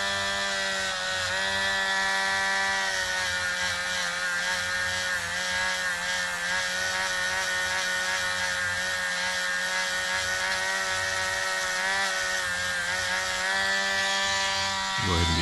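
A power tool polishes a headlight switch part from a 1967-1972 Ford F-series truck, giving a loud, steady, close whine that runs unbroken throughout.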